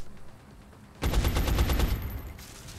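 Rapid burst of automatic gunfire from a squad battle in XCOM: Enemy Unknown, starting abruptly after a quiet lull and rattling loud and close for about a second before easing into a lingering tail.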